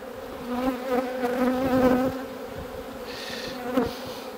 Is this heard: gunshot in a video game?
no